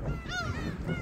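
Geese or similar birds give a few short honking calls close by on a beach, with rising and falling nasal notes and steady outdoor background.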